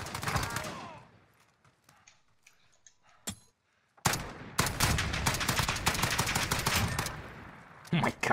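Rapid automatic gunfire from a fast-firing gun in the Modern Warfare video game: an opening burst, a few scattered shots, then a long dense stream of loud, quick cracks.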